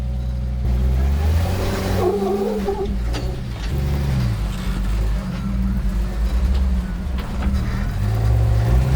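A Jeep Wrangler YJ engine rumbles and revs low and steady while rock crawling over Moab slickrock. Throttle rises and falls in uneven surges with occasional scraping knocks, close and loud, and faint voices occur at times.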